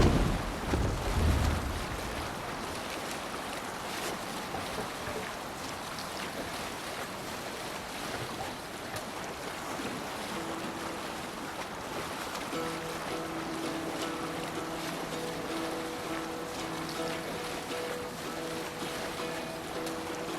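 A Viking longship sails on ocean waves in Assassin's Creed Valhalla, with a steady wash of surf and wind, a stronger surge at the start, and a soft low tonal hum rising under the water later on.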